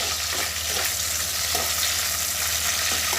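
Green chillies fry in hot oil with a steady, loud sizzle and crackle, dense and continuous throughout, close up with no talk over it.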